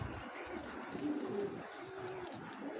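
Racing pigeons coo softly in a loft, a low steady murmur under faint background hiss, fairly quiet and continuous.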